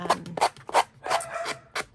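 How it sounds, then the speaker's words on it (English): A small sanding block rasps against old file cards in a quick series of short, scratchy strokes, close up, with brief pauses between them. "so I am just getting my little sanding block"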